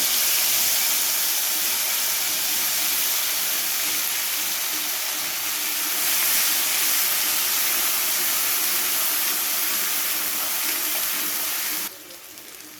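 Ground spice paste with dried red chilli and black cumin sizzling in hot oil, a loud continuous hiss that holds steady, then drops sharply near the end.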